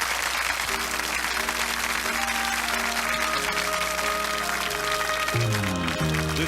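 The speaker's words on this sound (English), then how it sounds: "Your applause for all my guests, please." A studio audience at a 1977 CBC television special claps steadily throughout, a dense wash of applause mixed with music playing underneath.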